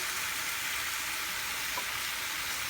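Garlic sizzling and frying on a hot grill surface, a steady, even hiss that runs unbroken and fairly quiet throughout with no voices over it.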